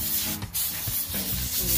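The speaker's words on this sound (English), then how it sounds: "my husband is using the air compressor just to remove all the dust" A continuous rushing hiss of compressed air from an air compressor blowing dust off a wooden garage door close by, with slight fluctuations in strength and no voices.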